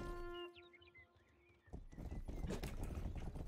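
Horse hooves in the Rustler video game: a brief tonal whinny-like sound opens, then quick clip-clopping hoofbeats grow louder and continue in a rapid, uneven rhythm.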